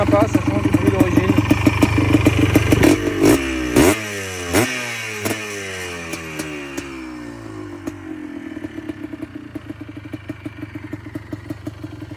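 A Yamaha YFS 200 Blaster quad with an aftermarket exhaust revs loudly, then drops from a raspy roar through a few sharp blips to an uneven, popping idle, recorded close up.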